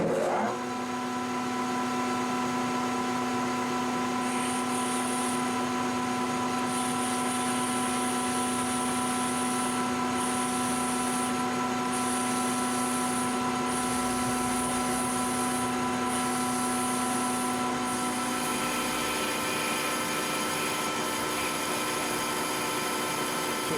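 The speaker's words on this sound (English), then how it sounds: "I'm going to use an end mill to help me along that path. This is a 5/8 end mill." A 5/8 end mill bores out the center of a kegerator beer tap handle, a steady close machine whine with a constant tonal hum, joined by a higher pulsing cutting squeal partway through.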